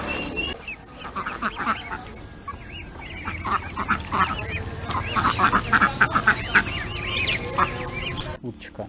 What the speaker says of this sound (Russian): Уточка.